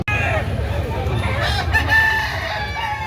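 A four-year-old rooster gives one long, close, loud crow lasting nearly the whole moment, with faint voices in the background.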